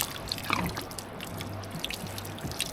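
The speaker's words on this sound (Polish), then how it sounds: "Najpierw niech się opłucze zbiornik i łączenie z pokrywką, żeby nic mi nie zaciekło." Water rinses out a tank and the joint with its lid, heard as faint trickling and scattered drips at close range in a quiet van setting, with no talk.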